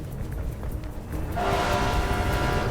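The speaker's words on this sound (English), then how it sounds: "Where's the train?" A train passes in the video game Mirror's Edge: a broadband rumble swells in about halfway through and holds steady, with a faint horn-like tone running over it and no talking.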